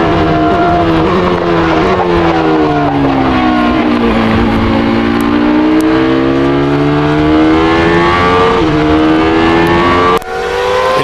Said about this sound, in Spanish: Un auto que manejó Jean Alesi en el Mundial del 96